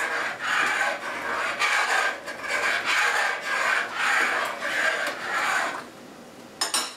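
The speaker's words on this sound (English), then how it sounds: "You can grate cheese for a minute or 2" Cheese rasped against a grater for homemade macaroni and cheese, a run of rhythmic scraping strokes close by, each stroke swelling and fading, then a pause and a light clatter at the end.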